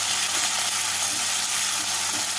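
Chopped onions fry in hot oil for a Bengali catfish curry, a dense, even sizzle that fills the whole moment without pause, loud and close, with no talking.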